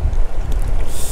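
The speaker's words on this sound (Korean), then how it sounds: "바람이 터진다." Strong wind at a carp fly-fishing spot buffets the microphone in a loud, low, continuous rumble that lasts about a second.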